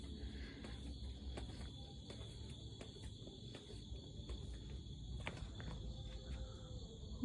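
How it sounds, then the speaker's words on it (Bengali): Crickets chirping at night in a forest at Jaldapara in the Dooars, heard as a steady, shrill high drone that runs unbroken throughout, faint and distant, with occasional soft knocks and rustles nearby. "ঝিঝি পোকার ডাক"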